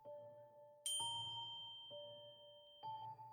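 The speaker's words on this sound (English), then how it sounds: "I awoke in my parents' room to the faint sound of a bell" A faint bell rings in a quiet room at night, a few soft ding-dong strikes spaced about a second apart, each tone lingering and decaying alone.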